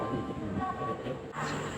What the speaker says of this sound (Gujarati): અમારી ટ્રેન આવી ગઈ છે હવે।